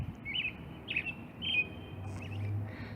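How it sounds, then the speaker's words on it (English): Birds chirp at night on a cool early-spring evening, a few faint, thin tweets repeating at irregular intervals over a quiet low hum, heard from some distance. "for some reason the birds are chirping"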